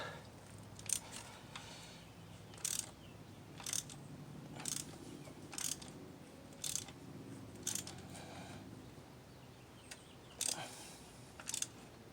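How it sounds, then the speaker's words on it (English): A ratchet tightens a spark plug on a 2003 Nissan Sentra, giving about a dozen short, evenly spaced clicking bursts over a steady background hum, close and moderately loud. "Once you feel it tight, what you want to do is use your ratchet."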